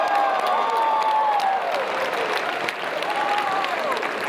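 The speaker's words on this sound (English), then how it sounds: "we're going to give one last big loud roar and applause for California" A large conference audience of student business leaders claps loudly and continuously, a dense wash of applause with cheers and whistles rising over it.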